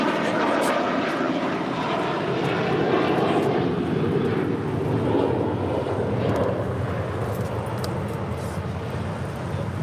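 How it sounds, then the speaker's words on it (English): An American Airlines A321 jet takes off at a busy airport, its engines giving a steady, loud broadband roar that holds for the whole stretch, with voices talking faintly over it. "Taking off there, that was American Airlines Flight 2837, heading to Charlotte in an A321."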